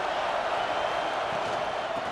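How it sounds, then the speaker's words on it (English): Stadium crowd in the College Football 26 video game: a steady, dense roar of many voices filling the space continuously, loud and unbroken. "This crowd bringing the energy and noise early."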